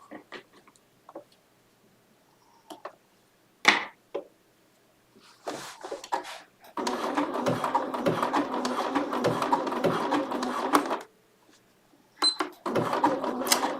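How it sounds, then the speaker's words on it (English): A Bernina sewing machine stitches small wool pieces down in bursts, with a long steady rapid whirring run in the middle between quieter pauses and small clicks. "Does not take long to stitch those little pieces down."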